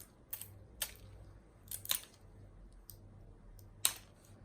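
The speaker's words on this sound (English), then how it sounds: "And then going in with nippers." Glass nippers bite into fused glass in a handful of sharp, close snaps spaced irregularly, about five crisp cracks with quiet pauses between them and no talking.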